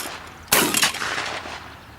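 A single loud gunshot cracks at a shooting range, sharp and close, followed by a long fading echo and no talk.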